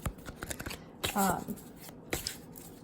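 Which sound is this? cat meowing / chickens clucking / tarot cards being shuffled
tarot cards being shuffled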